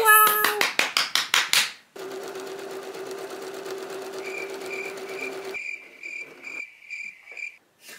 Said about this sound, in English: she's top stitching and adding a little hook for the collar